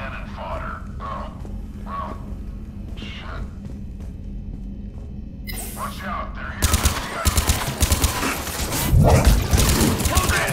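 Gunfire from a firefight aboard a ship's CIC in the video game Mass Effect Legendary Edition, with rapid bursts of shots building over the last few seconds and a voice speaking briefly before the shooting.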